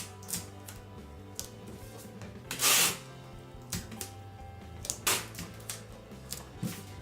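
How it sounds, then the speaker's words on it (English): Tape being pulled and pressed on to join cake pieces, heard as several short, sharp ripping and crackling bursts, one longer pull in the middle, against a quiet background. "Now you want to go ahead and tape all of this."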